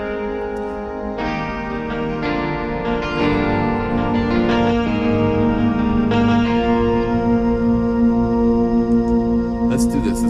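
An electric guitar played through the MegaMagic Guitars v5 plugin, set to a vintage sound with heavy church-style reverb, rings out in sustained notes and chords. Each new strike blooms and trails off in long, washy echoes.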